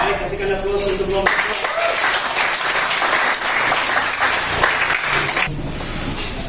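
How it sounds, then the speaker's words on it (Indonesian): A classroom group of students gets loud, sustained applause lasting several seconds, with clapping that starts abruptly and then tapers off near the end. "kasihkan aplaus untuk kelompok"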